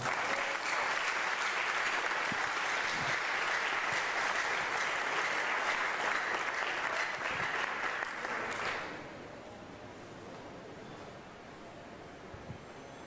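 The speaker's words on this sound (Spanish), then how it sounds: "Denle un aplauso a Dios por eso, hermano" Sustained applause from a large church congregation fills the space for several seconds, then cuts off abruptly, leaving quiet room noise.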